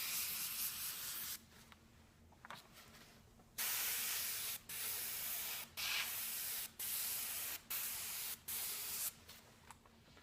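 Airbrush spraying paint over a stencil, a close steady hiss that runs in a long burst and then in a series of short, evenly spaced blasts with brief pauses between, no talk.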